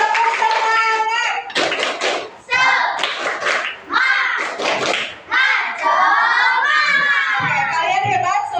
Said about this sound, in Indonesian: Oke, semuanya tepuk tangan dulu. Tepuk semangat.